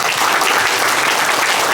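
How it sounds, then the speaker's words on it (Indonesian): Loud, dense applause from an audience fills the air at a business networking event in Bandung, a steady continuous roar of many hands clapping together without pause. "sekali lagi kita beri aplaus"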